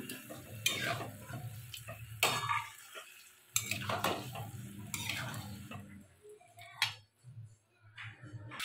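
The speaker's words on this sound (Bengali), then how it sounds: "এই মাংসটা আমি এবারে ঢেলে দেবো কড়ার মধ্যে, দিয়ে ভালো করে আমি এটা ঘেটে নেব" Chicken meat is stirred in a kadai over low gas, with bursts of scraping and clattering from the spoon against the pan and a soft sizzle between strokes, close by and fairly quiet.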